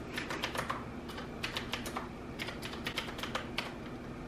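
Typing on a Qwerkywriter typewriter-style keyboard, a quick irregular patter of crisp clicky keystrokes in short bursts, close by and fairly quiet, with no talk.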